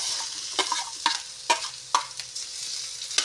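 Sliced onion goes into a hot pan of browning garlic for ginataang langka with shrimp, making a bright sizzle broken by about six sharp stirring scrapes at a steady pace, close up and without voices.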